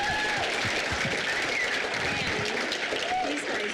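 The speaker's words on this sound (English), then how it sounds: "I just want to give her one more big round of applause for that" A crowd applauds at a council meeting graduation in a dense, steady wash of clapping that carries on evenly throughout, with a faint voice or two underneath.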